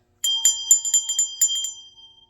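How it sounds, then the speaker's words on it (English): A small bell rung to clear an energy field gives a quick series of bright, close metallic strikes with ringing overtones, about eight hits in two seconds, then fades out in silence. "You could do that with ringing a bell."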